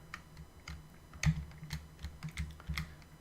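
Quiet computer keyboard typing while coding Haskell, a light irregular patter of key clicks with a few firmer taps, close and soft, with no talk.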